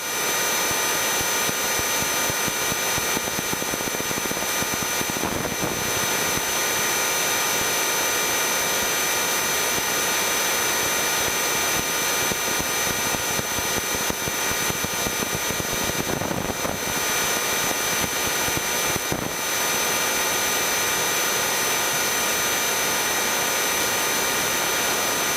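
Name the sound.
airplane engine during landing approach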